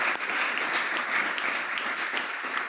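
Audience applause at a Hanukkah menorah lighting, a steady dense clapping from a crowd that holds evenly for the full few seconds with no voices over it.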